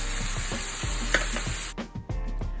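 Liver with onions and bell peppers frying in a pan, a steady loud sizzle with a few soft stirring scrapes and a brief clatter near the end.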